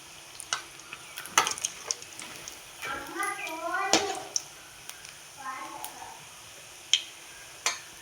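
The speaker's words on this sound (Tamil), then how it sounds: "எண்ணெய் காஞ்சால் மட்டும் போதும். அதுக்கப்புறம் சிம்மில் போட்டே வேக வைக்கலாம்." Vadai frying in hot oil over a low flame, a soft sizzling bed with faint clinks and stirring noises, while voices talk over the top.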